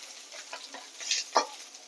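Katla fish roe fritters frying in oil on low gas, a soft close sizzle with a few light stirring scrapes and brief crackles, no talking.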